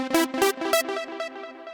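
A synth patch from Arturia Pigments plays a few short, bright struck notes with sustained harmonic tones ringing between them, clean and loud with no talking.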